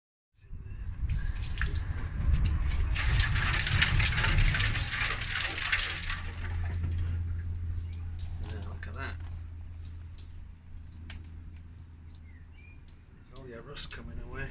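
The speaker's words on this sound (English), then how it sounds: "So I'll get some water in here to give it a shake up." Water pours into and sloshes around inside a rusty Yamaha Virago 535 motorcycle fuel tank, a loud hissing rush followed by lower, rolling swishing and rattling, with a voice speaking briefly near the end.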